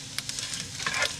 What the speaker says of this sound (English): Let's do another stir.